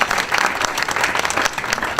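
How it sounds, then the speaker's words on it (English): Steady, dense applause from a crowd at a Hispanic Heritage Month kickoff event, loud and continuous with no talking. "a round of applause"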